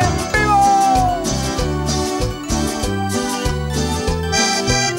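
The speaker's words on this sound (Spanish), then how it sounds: "Suena la banda en vivo." A live band plays at a concert, dense and loud with a pulsing low-end rhythm, sustained melodic lines and a bright upper mix filling the whole stretch.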